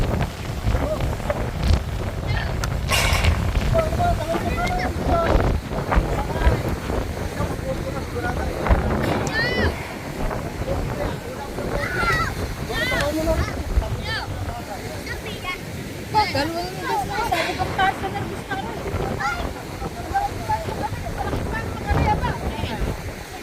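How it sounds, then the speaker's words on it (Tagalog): Loud wind buffets the microphone while strong waves slosh and crash around a boat at sea, with people talking over the rough, continuous roar. "Lakas ng alon ngayon."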